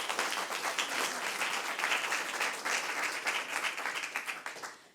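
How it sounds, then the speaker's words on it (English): Strong, sustained applause fills a conference session at a research forum, many hands clapping densely before tapering off near the end. "We can give a round of applause to Dr."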